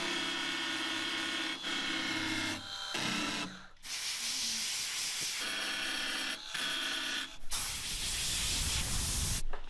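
A grinder works over a welded car body panel in short, rasping bursts broken by brief pauses, loud and close, with a harsher, brighter stretch of grinding near the end.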